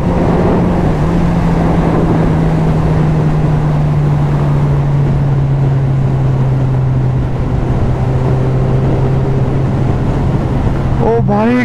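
A Suzuki Hayabusa motorcycle rides on after a wheelie, its engine a steady, loud drone that rises slowly in pitch, heard close and continuously under heavy wind buffeting.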